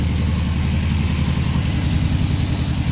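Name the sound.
old car engine running lumpy with choke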